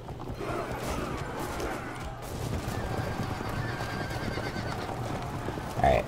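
Javelin cavalry horses in the video game Field of Glory II: a sustained wash of hoofbeats and battle noise with a sharp whinny near the end, under occasional talk.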